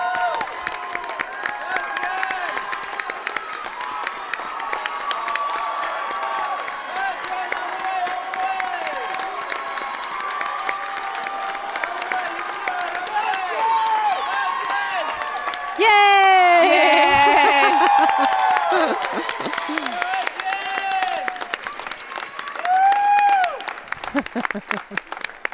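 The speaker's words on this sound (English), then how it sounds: "It's hard not to shout and scream and cheer her on." Spectators at an indoor high school swim meet against Hopkinton cheer and applaud a relay, with continuous crowd noise, shouts and whistles swelling into louder bursts of whooping and clapping, echoing in the pool hall.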